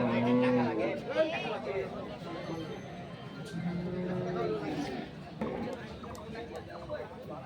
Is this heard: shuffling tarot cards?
no